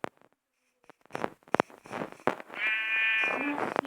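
A yellow sheep in Minecraft lets out a drawn-out bleat near the end, preceded by scattered short game sounds and clicks, with a voice speaking briefly around it.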